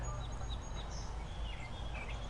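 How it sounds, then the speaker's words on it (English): Faint birdsong and scattered chirps from trees in a botanical garden in spring drift from a distance over a steady low outdoor rumble, with no voices. "You hear the birds in the trees."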